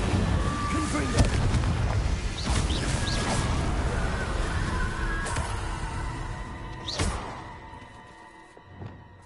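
Confringo spell blasts in Hogwarts Legacy, a run of booming magical explosions and crashing impacts with sharp transients, loud and close, mixed with game effects and fading toward the end.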